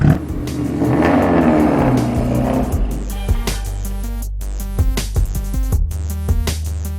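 Subaru Impreza WRX STI Gymkhana rally car driven hard, a loud close engine roaring and revving in sharp bursts with rapid gear changes and throttle blips.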